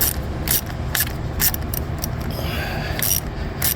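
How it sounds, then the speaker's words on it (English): On a 2006 Ford 500 engine, a tool works loose the 9mm bolt holding the ignition coils, giving loud, close mechanical ratcheting clicks over a dense, steady rumble of background noise. "I'm gonna go ahead and remove the 9mm bolt to the ignition coils."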